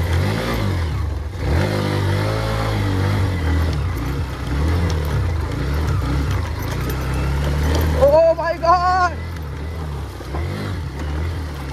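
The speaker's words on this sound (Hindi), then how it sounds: "हमारी बाइक आराम से चल जाएगी, बहुत स्मूथली चली जाएगी" A Hero Xtreme 125 motorcycle crossing water off-road near Dehradun, its engine droning and revving close by for most of the stretch, with a short sharp burst of higher revving near the end.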